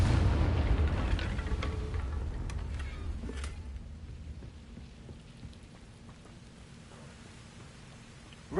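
A Confringo fire spell in Hogwarts Legacy goes off as a loud, booming blast at the start, then fades into a long rumbling, crackling decay. Faint clicks and ambience are left at the end.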